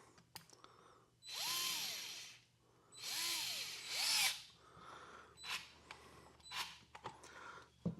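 A DeWalt 66719 electric screwdriver drives a number 10 screw into a small hole, its motor whirring in three rising bursts with clicks and handling noises between them, no talk.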